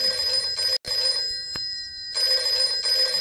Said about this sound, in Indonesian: ayahnya terbangun karena suara telepon berdering.